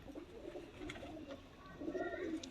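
Pigeons at a breeder's loft coo in low, rolling throaty murmurs, with one longer coo swelling toward the end, fairly close and quiet.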